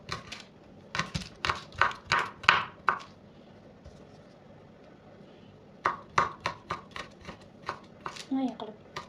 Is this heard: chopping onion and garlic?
yes